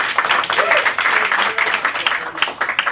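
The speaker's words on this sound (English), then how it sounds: "Give him a round of applause." A crowd applauds loudly and steadily for a few seconds, dense clapping filling the room with scattered voices mixed in.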